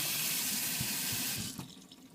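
Water stream from a filtered Brita or Pur faucet, a close, steady hissing flow into a sink that thins and breaks up near the end, with no speech.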